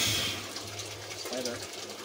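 A GE Filter Flo washing machine fills with water: a steady, fairly loud rush of water runs throughout, with a brief voice heard partway through.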